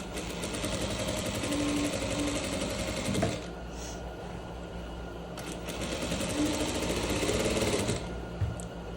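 A sewing machine stitches a pleated trouser waistband with a waistband presser foot, running in steady near, loud mechanical bursts that pause briefly near the middle before resuming.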